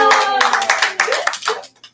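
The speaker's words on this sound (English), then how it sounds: "Give yourselves a warm round of applause." Children and adults at a bookstore storytime clap together in a brief, busy round of applause that fades out after about a second and a half.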